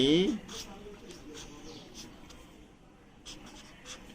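A pen or marker writing a math formula on a board during a general math lesson, soft scratchy strokes in short bursts, heard close under a teacher's speaking voice.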